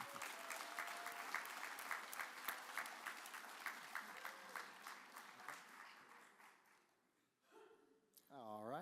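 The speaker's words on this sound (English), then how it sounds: "Let's give these good board members one more round of applause." Audience applause at a disability summit for board members, a dense sustained round of clapping with some voices over it, dying away near the end before a brief other sound.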